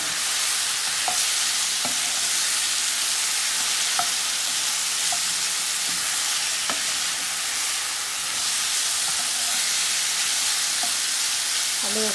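Chicken pieces frying in a pan for Turkish-style cheesy chicken, a steady loud sizzle with a few stirring clicks and scrapes, continuous throughout with no talking.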